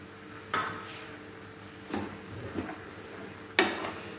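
A spoon clinks and scrapes against a pan while coconut and milk are stirred, giving three or four distinct sharp knocks spaced a second or more apart over a low, quiet background.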